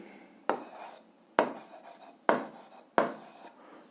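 Pen or marker scratching out a math formula for a linear function on a board or paper, four distinct writing strokes spaced roughly a second apart, each starting with a sharp scrape that trails off, close and alone.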